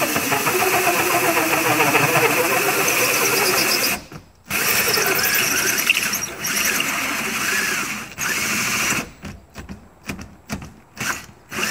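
A power drill fitted with a hole saw cuts a 3.5-inch hole in a water tank for its inlet in a shuttle bus RV conversion, whining loudly and steadily, then stopping briefly and resuming in short bursts.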